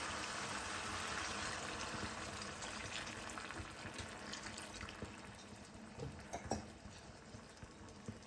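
Water pours and splashes steadily into a pot of mint chicken curry, a broad continuous hiss with a few louder splashes near the end.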